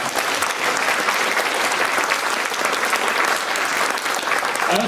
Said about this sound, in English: That in itself deserves another round of applause.